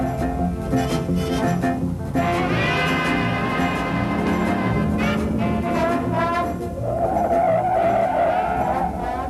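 Tires of a bronze 1972 Buick Riviera GS 455 squeal and skid through a hard 50 mph braking stop, a steady loud screech lasting several seconds with engine and road noise underneath, no talking.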